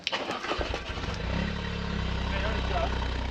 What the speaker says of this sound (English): a proof that the engine is actually running